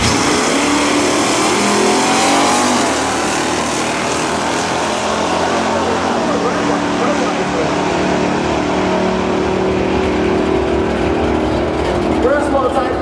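A green Buick sleeper accelerating hard down a drag strip at the Norwalk, Ohio Buick race days, a loud roaring engine sweeping up through the run, with a voice talking over it.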